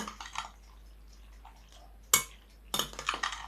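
A spoon stirs a pasta and egg casserole mixture with seasoning and sausage in a bowl, producing soft scraping and light clinks in brief separate bursts, close up and fairly quiet.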